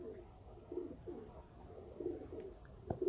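Pigeons of the 35-wala kabootar type, kept for sale in Sialkot, coo steadily in a continuous run of low, throaty, rolling calls, close by, with no talking.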